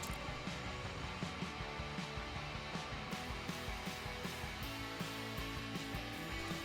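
A CNC machine mills aluminum for a puzzle piece, giving off a dense, steady whirring roar with a regular pulsing tick from the cutter, fairly faint and continuous throughout.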